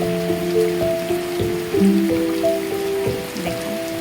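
Continuous monsoon rain falls on a flooded farming village in rural Bengal. A steady wet hiss plays under a loud, sustained melodic music track with no voices.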